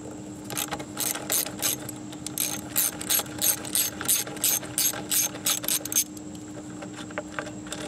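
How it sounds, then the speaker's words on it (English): Hand ratchet loosening a 10 millimeter bolt holding a pressure sensor on an intake duct of a Nissan Maxima or Infiniti engine, a rapid run of close, crisp clicking bursts that stops, followed by quiet. "So go ahead and remove this bolt right here."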